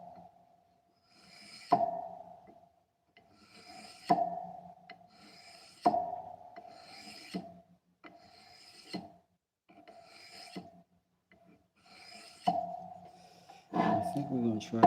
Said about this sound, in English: Like a scraper will give you a sheen that you just cannot get from just the sand.